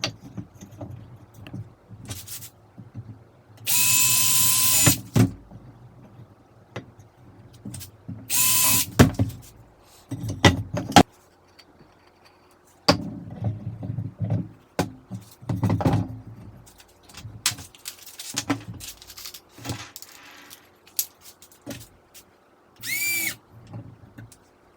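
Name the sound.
drill driving 2-inch screws into wood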